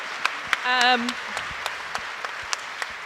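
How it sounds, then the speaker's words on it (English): Scattered, evenly spaced claps from a conference audience at a climate politics event, sparse and fairly distant, with a brief voice cutting in partway through. "can we just give a round of applause for two politicians who are doing the right thing in leadership?"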